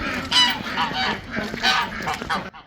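Geese or other farm fowl honk repeatedly by a pond, several loud nasal calls overlapping close by, with no talk.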